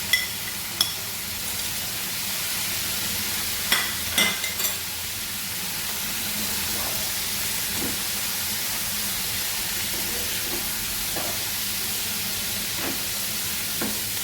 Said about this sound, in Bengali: এগুলো ভালো করে ভাজতে হবে, মশলাটা কাঁচা গন্ধটা যাতে চলে যায়।